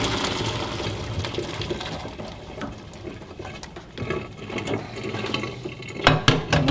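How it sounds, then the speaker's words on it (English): Dark, steeped acorn water is strained out of a pot, a continuous splashing, trickling pour with small clinks and knocks, close and fairly loud, without speech. "I'm just about to strain out that water."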